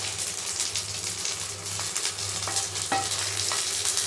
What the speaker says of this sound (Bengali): আস্তে আস্তে মাছটা ভাজি করতেছি।